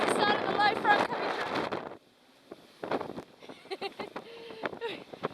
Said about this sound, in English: We've got 30 knots of wind at the moment from the north.